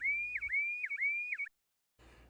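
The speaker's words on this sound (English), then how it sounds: "the receiver will alarm again once it receives the signal" An ORCA MOBI man-overboard receiver sounds its alarm: a loud electronic tone in three repeated rising sweeps, each ending in a chirp, then a short silence.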